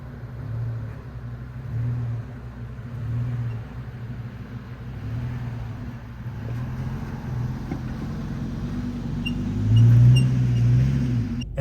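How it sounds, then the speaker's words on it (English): Long wheelbase van rolling slowly over a small dip, a steady low rumble of engine and tyres with a gentle swell near the end, heard from inside the cabin. "Let's go ahead and try it in this van and see how close we get to bottoming out."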